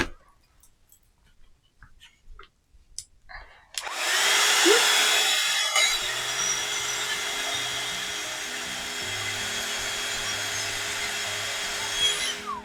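Hair dryer blowing on a freshly ink-stained MDF frame, starting after a few soft handling knocks and then a steady loud whooshing hum that holds close for several seconds.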